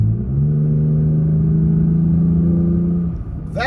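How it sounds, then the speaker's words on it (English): A Toyota Tacoma pickup idles loudly with a deep, steady rumble from its aftermarket dual-outlet exhaust, close by and unbroken for a few seconds. "That is the aftermarket dual exhaust, at least dual outtake exhaust that I put on my Toyota Tacoma."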